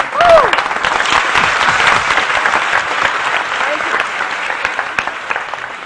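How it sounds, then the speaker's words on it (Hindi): Loud, sustained applause from a large studio audience at a Pakistani TV morning show, dense clapping that swells at the start and holds steady, with a voice briefly audible over it. "बहुत सारी तालियां जी एक बार फिर।"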